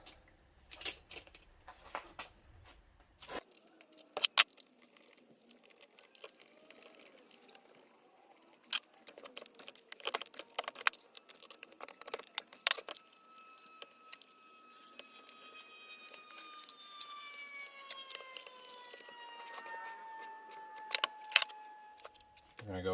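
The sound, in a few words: bolts being installed on Predator 212 engine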